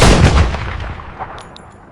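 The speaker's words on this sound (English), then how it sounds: "But in the blink of an eye, a single round fires." A single round is fired from a legally owned gun during maintenance: one sharp, loud report, then a rumbling echo that fades over the next two seconds.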